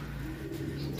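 Racing pigeons in a one-loft race loft coo softly, low throaty calls overlapping close by with faint rustling in the background and no talking.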